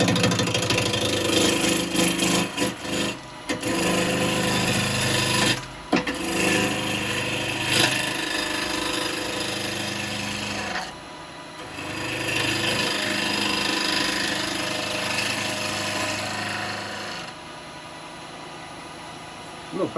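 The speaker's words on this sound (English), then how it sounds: "this can take a lot of wood off very quickly, this gouge" A woodturning gouge cuts a yew bowl spinning on a lathe, a loud close continuous scraping and humming roar that dips briefly a few times.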